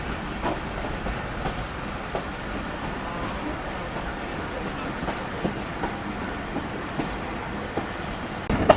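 The Awam Express passenger train runs from Rawalpindi toward Lahore, heard from inside as a steady rolling rumble with faint rhythmic clicks of wheels over rail joints.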